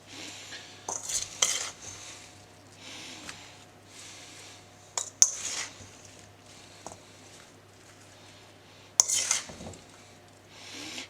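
Apple pie filling is spooned into a crust, making soft rustling and a few sharp clinks of a utensil against a dish, spaced irregularly in a quiet room.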